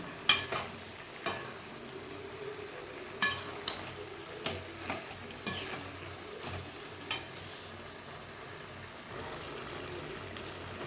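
Chicken pieces for a fry dish being stirred in a hot pan, a series of sharp scraping clacks from the utensil at irregular intervals over a quiet, low sizzle.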